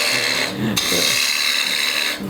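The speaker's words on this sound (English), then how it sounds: "I'm going to turn this on, and we're going to start hollowing the bowl" A wood lathe hollows out a thin-walled Maldrone bowl, the tool scraping and rasping steadily against the spinning wet wood close by, with a brief louder bite partway through.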